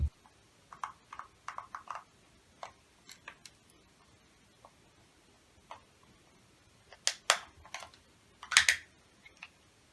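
Small clicks and ticks while a tiny screw is worked out of an airsoft AK drum magazine, irregular close taps scattered throughout, the loudest cluster near the end, with no talking.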